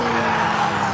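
A race car lights up its rear tyres at Goodwood SpeedWeek 2020, a loud, close, sustained screech of spinning rubber over a hard-revving engine.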